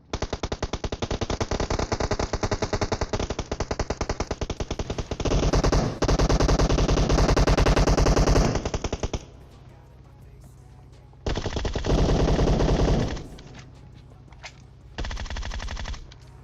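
An AKM assault rifle fires in PUBG Mobile as several long automatic bursts, dense, rapid and loud, broken by short pauses and with no voices over them.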